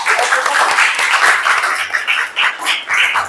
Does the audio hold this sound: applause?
yes